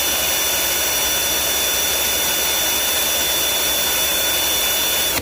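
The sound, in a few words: power drill spinning to remove line tension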